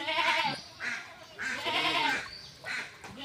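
Goats bleating in a flooded Bangladeshi village, several wavering calls close by, one after another in a loose rhythm with short pauses between them.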